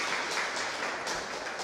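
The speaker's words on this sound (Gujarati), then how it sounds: "એમને તાળીઓથી વધાવી લઈએ." Crowd applause welcoming a speaker at a Gujarati book-talk gathering, a dense steady patter of many hands clapping throughout, moderately loud with no voices over it.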